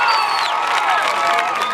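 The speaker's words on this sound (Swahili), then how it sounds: "Wewe jipigie wewe makofi uliyekuja mkutanoni" Church congregation clapping and cheering at a gospel meeting, a loud dense roar of applause with raised voices and whoops over it.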